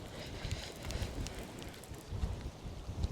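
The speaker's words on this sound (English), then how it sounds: "Oh, that wind is a bit brisk, so hopefully it's not picking up too much on the camera." Brisk outdoor wind buffeting a camera microphone at a fishing spot, a low rumbling roar with uneven gusty swells that never lets up.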